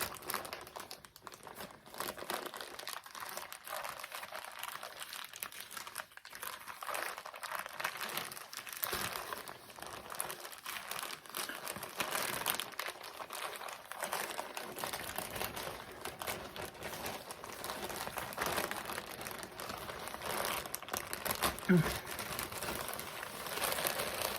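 Crinkly plastic packaging around a WWE Shop merchandise item is handled and torn open at close range, with continuous rustling and crackling for the whole stretch and no talking.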